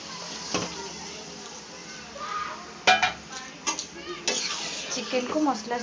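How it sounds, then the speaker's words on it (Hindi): Chicken being stirred with masala in a pan, with scraping and clinking of a utensil against the metal over a soft sizzle. Louder bursts of stirring come in the second half, with brief clattering strokes. "चिकन को मसला सहित भल भाव मिक्स कर नवा"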